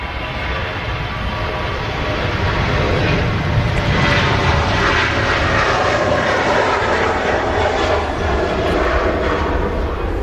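Ryanair jet airliner taxiing at Manchester Airport, a loud, steady engine roar that holds unbroken throughout, close and dominant.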